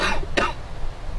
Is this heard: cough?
yes